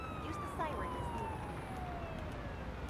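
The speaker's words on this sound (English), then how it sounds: "It's actually telling us to switch the siren on, but we've already done that anyway." An ambulance siren in the game Ambulance Life: The Paramedic Simulator wails in a steady sweeping tone, fairly faint under a constant background of engine and road noise.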